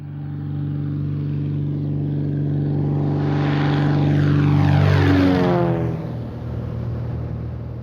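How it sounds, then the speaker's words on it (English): A propeller airplane used in an aerial manhunt search drones loudly overhead, its engine tone building as it nears, then sweeping down in pitch as it passes close and recedes over steady background noise. "Local and state authorities used every tool at their disposal, including Sheriff Nettleton's airplane."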